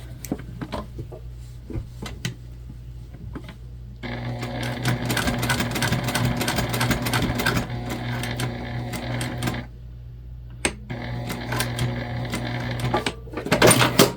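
A sewing machine runs top stitching along a quilted fabric pouch, with steady bursts of motor whir and needle clatter interrupted by short pauses and a few handling clicks.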